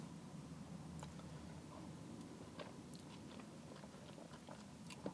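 Someone bites into and chews a chip dipped in curry sauce at a fish and chip restaurant, soft close crunching and mastication sounds going on steadily for several seconds, quiet and unaccompanied by talk.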